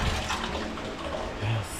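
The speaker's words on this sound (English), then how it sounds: "all the water are being channeled directly inside" Rainwater from a light drizzle being channeled indoors, a continuous splashing, trickling flow with a brief deeper gush near the end, fairly close and without speech.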